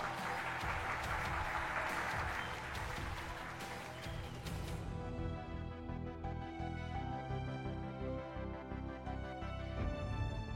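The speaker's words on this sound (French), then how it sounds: "Un tonnerre d'applaudissements pour l'encourager!" Applause greets the contestant Miss Indira Sharma at a pageant, a burst of crowd clapping for the first few seconds that gives way to loud music with a heavy, pulsing beat.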